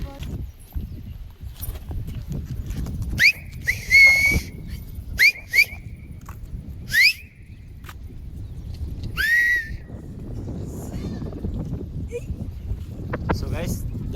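Sharp pigeon-flying whistles sound in repeated short blasts and rising trills outdoors, used to fly high flyer pigeons, with wind and background noise and no talking.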